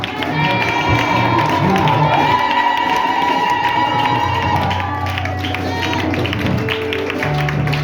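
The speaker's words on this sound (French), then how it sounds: "Je veux que tu acclames en ouvrant ta bouche avec des cris de joie" A church congregation cheers with loud shouts of joy and clapping, a continuous crowd roar with high voices rising above it over sustained background music.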